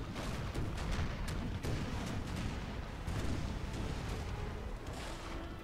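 Ship cannons firing in a naval battle in the game Napoleon: Total War, heavy booms and rumbling volleys overlapping in a dense, continuous barrage with repeated sharp blasts throughout.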